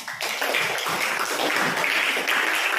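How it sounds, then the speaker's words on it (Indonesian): Classroom of students applauding for group 1, a dense, continuous patter of many hands clapping together at close range, holding steady at full strength without pause. "sekarang beri aplaus untuk kelompok 1"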